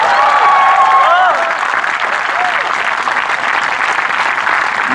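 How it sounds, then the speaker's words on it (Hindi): A large crowd applauds at a comic poetry recital, steady loud clapping that holds throughout, with a brief voice and whistle-like tones near the start. "तालियां बजाइए"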